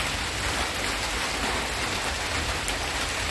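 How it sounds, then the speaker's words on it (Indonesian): Rain pours down steadily in a village setting, a dense, even hiss that fills the whole stretch without a break or pause. "Ya mudah-mudahan hujannya makin lebat aja, mbak."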